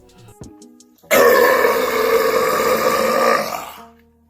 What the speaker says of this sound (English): his burps sound like they belong on the Richter scale